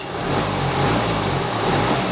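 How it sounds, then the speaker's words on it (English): A car engine with its EGR valve removed revs freely, a loud, steady close-up mechanical roar with a faint rising whine, sustained throughout without talk. "Engine seems to rev a bit more freely."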